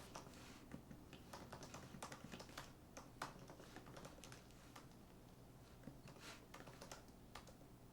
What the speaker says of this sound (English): if I go ahead and start typing